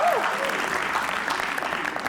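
An audience at a comedy roast show applauds a newly introduced actor, a dense steady wash of many hands clapping for about two seconds, with a brief voice at the start.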